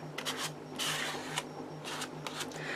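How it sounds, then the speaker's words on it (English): A credit card scraping and blending paint on a surface, with several short dry scrapes in an irregular rhythm, close and quiet, over a low steady hum. "That's how I blend with a credit card."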